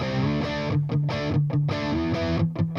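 A PRS electric guitar played with the bridge and neck pickups together, loud and close, a tight riff of short chugging notes broken by brief stops, with a slightly overdriven edge and no voices.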